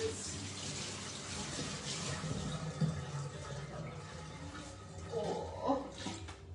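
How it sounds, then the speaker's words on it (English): Tap water runs steadily into a kitchen sink during handwashing, a soft continuous splash with faint clatter near the end. "Alright, wash my hands."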